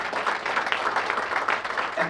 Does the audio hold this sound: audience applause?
yes